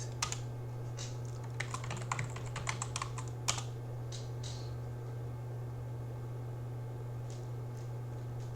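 Someone types a Linux command on a computer keyboard, a quick burst of close key clicks that stops, then a few faint taps later, over a steady electrical hum.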